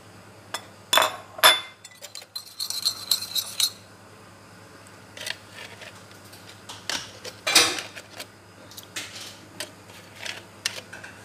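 Yogurt, olive oil and lemon juice sauce stirred in a bowl, heard as scattered light clinks and scrapes of a utensil against the dish, with quiet pauses in between.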